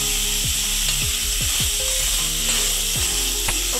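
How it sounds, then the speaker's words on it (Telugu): Cucumber pieces sizzling in a hot pan with a pinch of turmeric, a steady close fry broken by repeated short scraping stirs. "ఇప్పుడు కట్ చేసి పెట్టుకున్న దోసకాయ ముక్కలు కూడా వేసుకున్నాం."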